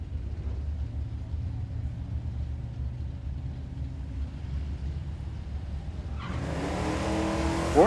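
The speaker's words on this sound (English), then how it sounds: "I'm guessing it's probably a big block, low RPM grunt" A pickup truck with a big-block engine idles with a low, rumbling grunt at the Hot Rod Drag Week 2012 drag strip, then suddenly launches with a loud, rising roar near the end.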